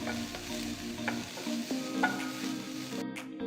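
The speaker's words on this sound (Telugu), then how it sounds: "1/2 కప్ అంత తరిగిన బీన్స్ కూడా వేసి బాగా కలిపి 5 నిమిషాల పాటు వేయించాలి" Chopped carrots and beans frying and being stirred in a pan for mini samosa filling, a close, continuous sizzle with repeated light spatula scrapes and taps and a low hum underneath.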